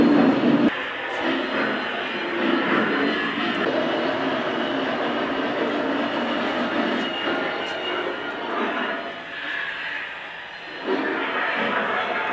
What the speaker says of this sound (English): that's by far the longest train I've had on one of my engines that I own